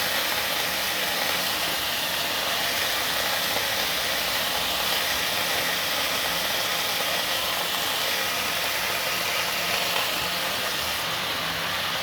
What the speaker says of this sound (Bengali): আমাদের দুই পাশে উল্টে একটু ভাজতে হবে।